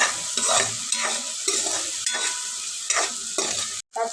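Onion and tomato sautéing in a pan with salt, rhythmic scraping strokes of a spatula roughly every half second over a continuous close sizzle, briefly cutting out near the end.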